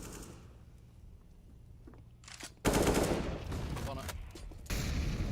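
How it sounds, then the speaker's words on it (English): Gunfire in a competitive Counter-Strike: Global Offensive match at a UK Masters tournament, with bursts of rapid shots breaking out loud after a quieter stretch, layered under a commentator's voice. "Gonna volley off a few shots here and there, but nothing really lands"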